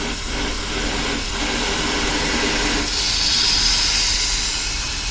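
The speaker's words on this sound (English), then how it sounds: "As soon as I turn the nitrogen on, I think it's leaking. It's this hose." Nitrogen hissing out of a leaking car air-conditioning hose near the high side fitting: a loud, continuous broadband hiss, close up, growing brighter and stronger partway through.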